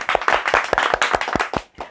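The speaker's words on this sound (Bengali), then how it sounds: "আবারও আরেকটা করতালি।" A short round of hand clapping from a small group at a children's recitation contest results announcement, brisk and fairly close with uneven, scattered claps that thin out toward the end.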